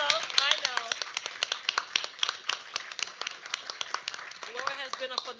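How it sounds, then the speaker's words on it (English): Scattered hand clapping at a New Jersey State Board of Education meeting, sharp separate claps in an uneven rhythm while a voice keeps talking over them. "Laura, please stand for a round of applause."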